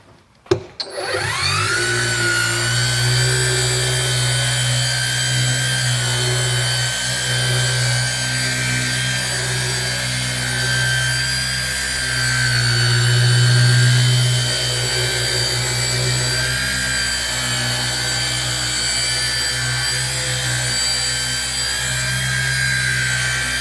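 A power polisher spins up sharply and runs on an Eventuri intake plenum for an E92 M3, its steady whining hum with high tonal overtones holding loud and close, rising briefly midway.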